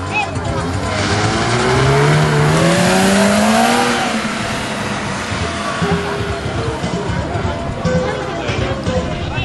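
A BMW stunt car at a stunt show accelerates onto a ramp and tips up onto two wheels, its engine rising in a loud, rising whine with tire noise, under steady commentary.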